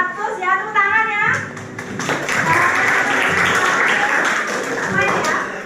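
A classroom of students claps for classmates after results from a volcanism lesson, scattered hand claps and taps building after a teacher's speech and continuing as a loose, uneven patter with voices mixed in.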